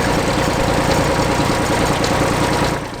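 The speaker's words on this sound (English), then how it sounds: "a very rare tractor, the Fowler Gyrotiller." A rare 40-horsepower Fowler Gyrotiller tractor engine runs at a steady idle, a constant low chugging rumble heard alone and close.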